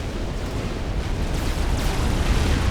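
Artillery turret fire explodes in the Supreme Commander real-time strategy game, a loud, sustained roaring blast that rumbles and crackles without a break, with no talk over it.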